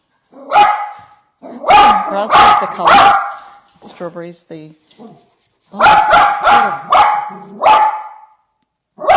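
A dog barks in loud bursts close by, several sharp barks and whimpers between stretches of someone talking indoors during a furniture painting session.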